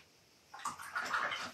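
A watercolor paintbrush is rinsed in a water jar: a quiet pause, then a short close swishing and sloshing of water lasting about a second.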